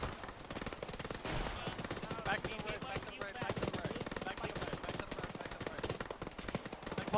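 Sustained gunfire in an ARMA 3 firefight ambush, with dense overlapping rifle and machine-gun bursts rattling continuously and loudly throughout, and a possible voice faint underneath.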